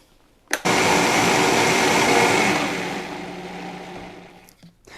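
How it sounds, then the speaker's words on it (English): A blender whirs loudly and steadily for several seconds while blending red sauce (salsa rosa), its pitch easing slightly as it runs, then stops with a brief clunk. "now we're going to start blending"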